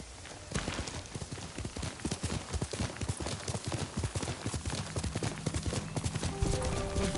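Hooves of the horse Kage clip-clop steadily on the ground in Ghost of Tsushima, a brisk repeating gait with soft background game ambience, and no talk over it.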